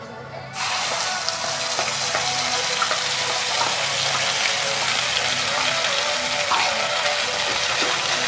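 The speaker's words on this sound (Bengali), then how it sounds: "এখন এই পেস্টটা আমরা আমাদের কড়াইতে দিয়ে দেব।" Ground spice paste for a chital fish curry sizzles and fries steadily in a wok at home, a dense, continuous crackle that starts abruptly after a brief quiet moment and stays loud throughout, with faint kitchen clatter underneath.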